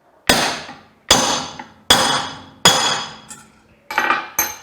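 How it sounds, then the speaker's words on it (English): A heavy hammer strikes a forming tool set over a strip of copper on a die, six sharp ringing metallic blows spaced less than a second apart, each fading with a short ring, close and loud with no talk. "give it a good whack or few whacks with a heavy hammer"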